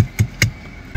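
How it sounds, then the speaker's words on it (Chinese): Sharp taps set off a brief metallic rattle, three hits in quick succession close by, then a fourth after a short pause. "就是这一块电路板在响啊"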